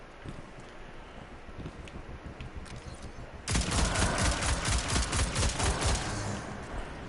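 Destiny 2 scout rifle with Reconstruction and Killing Wind perks firing in rapid repeated shots, loud and close, starting abruptly midway after quieter ambient game noise.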